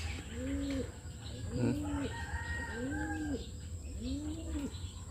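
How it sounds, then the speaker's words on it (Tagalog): An albino pigeon coos in a run of soft, rounded calls repeated about once a second, fairly close, over a steady low background hum. "Albino dove. Pigeon, I mean."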